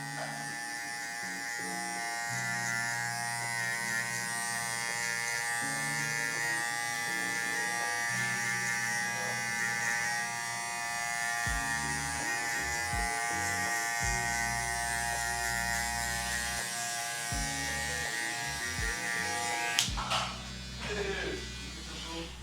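Electric hair clippers buzz steadily while fading 4C hair, a close, continuous motor whine that dips and shifts in tone as the blade moves through the hair, ending with a brief rattle of handling.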